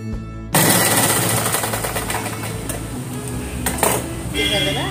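A sewing machine runs steadily, stitching rows of double seams on a saree petticoat. A fast, even mechanical rattle starts abruptly after a brief quiet moment and continues close and loud throughout.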